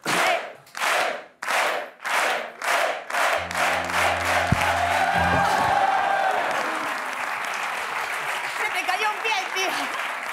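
A group claps in a steady rhythm, then the beat dissolves into continuous applause with voices and a shout mixed in.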